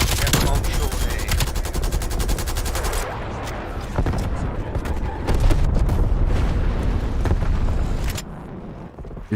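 Loud, dense bursts of automatic gunfire and booming explosions from bombs and grenades in Call of Duty Warzone, rapid volleys crackling continuously over about nine seconds with a few heavier blasts, no clear talk.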